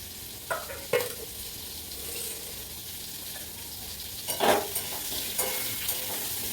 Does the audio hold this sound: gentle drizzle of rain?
no